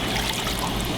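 Water pours steadily into a pan to start a sugar syrup for a candy dessert built around Necco wafers, a close, continuous trickling stream with no talk.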